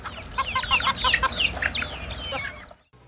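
Chickens kept by a farmer in Ghana cluck and chatter busily close by, a rapid overlapping run of calls over faint background noise that fades out near the end.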